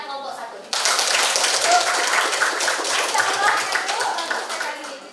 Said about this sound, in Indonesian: mari kita berikan aplaus kepada kelompok 1